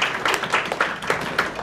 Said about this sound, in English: Now we've applauded that one